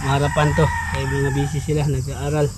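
A rooster crows in a Philippine community vegetable garden, its drawn-out call rising clearly over the voices of people chatting close by.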